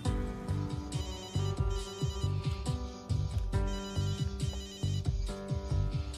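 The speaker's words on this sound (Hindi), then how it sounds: "हेलो सारिका जी, मना किया ना फोन करने को, दोबारा मत करना।" A telephone rings in a repeating electronic pattern of bright pulsed tones, loud and close, cycling steadily with no talking over it.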